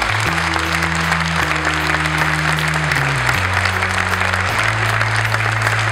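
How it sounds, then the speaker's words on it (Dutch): Audience at a two-day government hackathon applauds steadily and loudly, dense clapping over a low sustained musical drone that shifts pitch a few times. "dik applaus"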